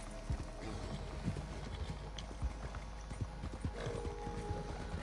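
A horse in a video game, its hooves clopping in irregular, quick strikes alongside soft thuds and scuffles, moderately close and fairly quiet against a low background hum.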